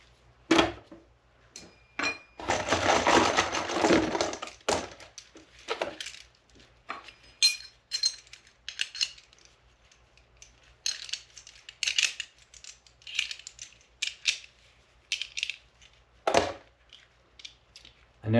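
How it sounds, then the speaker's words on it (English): Spring steel en bloc clips for an M1 rifle are loaded by hand: a long run of metallic clicks, clinks and rattles, some dense bursts and some single sharp snaps, close and fairly faint. "Another thing I really like about loading up M1 clips."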